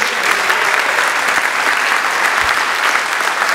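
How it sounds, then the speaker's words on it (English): An audience at a Halloween Houdini séance event in San Francisco breaks into loud, continuous applause, a dense even roar of many hands with no voices on top. "Give a round of applause."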